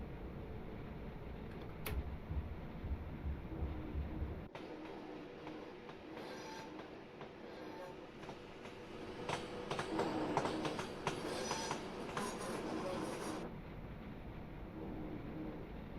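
A train passes through Wolverhampton station in Train Sim World, a steady rumble with rail clatter and brief wheel squeal, swelling louder midway before settling, with no talking.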